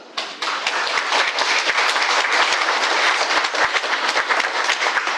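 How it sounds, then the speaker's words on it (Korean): Dense applause from a church congregation fills the space with steady, loud clapping throughout, with no voices above it. "박수합시다."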